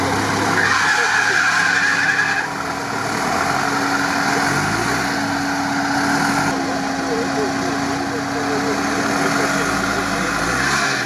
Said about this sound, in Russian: Одно колесо крутится.